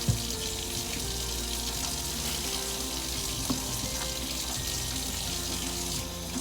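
An onion being rinsed under a running kitchen tap while prepping a seafood boil: a steady, close rush of water that runs on without a break for several seconds, with no talking.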